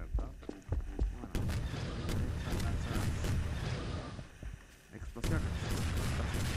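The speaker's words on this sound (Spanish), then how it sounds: "explosiones" A custom addon gun in Garry's Mod sets off repeated explosions, a string of sharp booms and blasts early on followed by rumbling, crackling bursts, loud and close, with a voice talking partway through.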